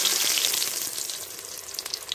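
Beef kebab patties fry in hot oil with a steady, bright sizzle and crackle, close up and fairly loud, fading slightly as it continues.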